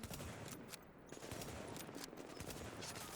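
Rapid bursts of gunfire crackle in the video game The Division, quiet and dense, with sharp repeated shots spread across a few seconds.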